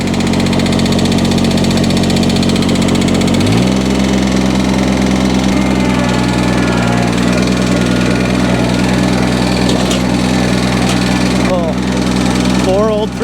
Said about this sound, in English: It's got a little tap in that engine, but she runs.